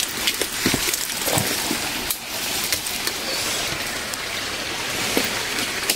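Water flowing in a stream along an overgrown jungle trail, a steady broadband rush with some splashy spikes. The sound runs close and continuous, and no one talks over it.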